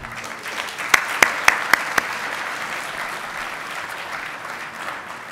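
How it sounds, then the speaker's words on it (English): A short burst of clapping from a crowd at an optics industry awards ceremony, a few sharp claps standing out over a steady patter of applause that fades into background hubbub. "the guys at SPE deserve a round of applause right now"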